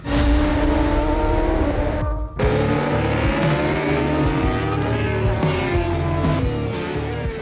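Supersport 300 racing motorcycles, light bikes up to 400 cc, scream past on a race track with loud, high-revving engine wails, rising and falling pitch, one brief gap in the engine noise, then more bikes layered together.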